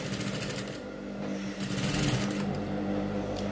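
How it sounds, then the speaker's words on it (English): A sewing machine runs steadily throughout, stitching boys' school uniform shorts with a continuous, fairly quiet mechanical hum. "I'm going to be stitching all the way"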